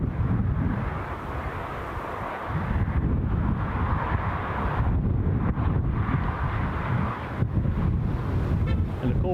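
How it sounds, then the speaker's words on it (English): Strong wind buffets the microphone at Newcastle International Airport, a steady heavy roar with gusting surges across the whole stretch and no voices. "As you can see, plenty of wind here"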